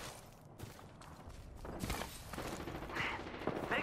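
Bursts of video game gunfire with rapid automatic shots, building louder toward the end, mixed with mechanical clicks and faint movement sounds.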